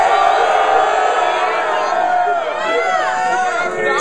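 Live crowd at a rap battle in a Las Vegas gym, cheering, whooping and chattering loudly and steadily throughout, with excited voices shouting over the dense crowd noise.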